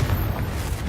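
A Confringo explosive spell blast in Hogwarts Legacy lands as one brief, deep, rumbling boom that stays loud across its short span, with no talk over it.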